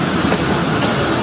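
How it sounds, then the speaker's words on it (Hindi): A passenger train pulls out of Tando Allahyar railway station, recorded from inside the last coach as a loud, steady rumble of wheels and car noise. "तो ट्रेन तकरीबन 2 मिनट रुकने के बाद टंडोवाला यार रेलवे स्टेशन से निकल रही है।"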